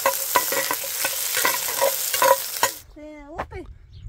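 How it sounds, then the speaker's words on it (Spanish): Onion frying in a pan makes a loud, close sizzle with rhythmic stirring clatter for nearly three seconds, then cuts off to near quiet with a brief tonal sound. "Y sigue la preparación poniendo ya la cebolla"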